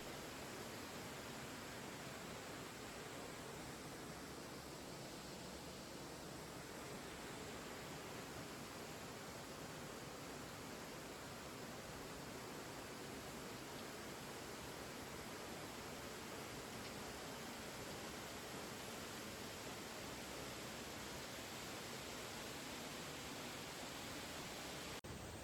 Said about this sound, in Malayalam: കല്ലാർ വെള്ളച്ചാട്ടം